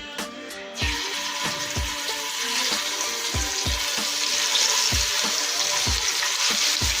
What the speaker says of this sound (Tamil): இந்த தோசைக்கல் வச்சு இப்போது நம்ம சிக்கனை ஃப்ரை பண்ணிக்கிறோம்